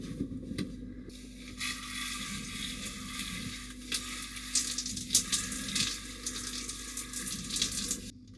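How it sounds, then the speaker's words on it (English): A shower running in a camper van in Baja, Mexico, gives a steady broadband hiss of spraying water that holds for the whole stretch, close and fairly loud, with small fluctuations and no talk over it. "Time for a little shower, which has been so nice down here in Baja."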